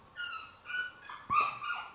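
A dog whimpers alone in a home, giving a few high, thin whines with short pauses between them, fairly quiet and close.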